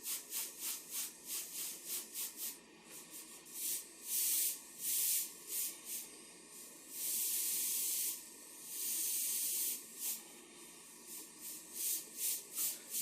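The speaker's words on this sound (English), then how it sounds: "You really got to slow down when you're doing this type of airbrushing." An airbrush sprays black and white paint in short repeated hissing bursts, then longer sustained sprays, close and steady with no talking.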